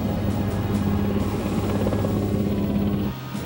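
Military helicopters drone with a loud, continuous rotor throb that stays steady throughout and dips slightly near the end, with no voices.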